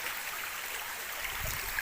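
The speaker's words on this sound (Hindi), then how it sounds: "ये देख सकते हैं यहाँ पर भी कितनी स्पीड से पानी आ रहा है" Rainwater rushes fast through small hand-dug drains during heavy rain, a steady close hiss of flowing water with a faint gurgle toward the end.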